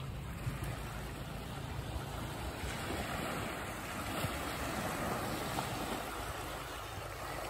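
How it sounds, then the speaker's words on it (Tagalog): Sea waves wash in at Sen Beach at low tide. The surf keeps up a loud, constant roar with no voices. "Nag-low tide tapos parang lumalakas din yung alon."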